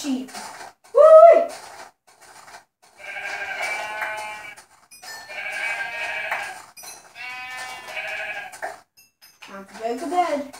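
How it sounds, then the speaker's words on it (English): Sheep bleat repeatedly in a farming video game, a few clear harmonic calls spread across the moment, with a voice speaking briefly at the start and end. "Oh, sheep!"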